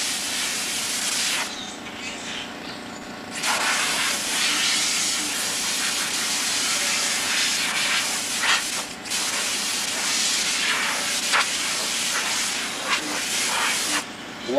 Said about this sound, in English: Blow off all the sheeting out here.